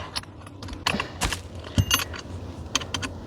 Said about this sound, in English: I will be using the Allen wrench. We'll take this one off.